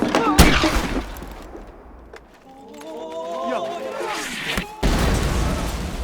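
Scattered gunfire from a Korean War film battle scene, with a few sharp bangs and bursts, shouting voices and a rising tonal score between them, the shots standing out loudly against the music and speech.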